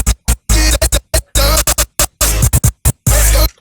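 A DJ scratch effect without reverb, made in Acid Pro 7 software, plays as loud, choppy bursts of scratched sound separated by sharp silent gaps, dry and close.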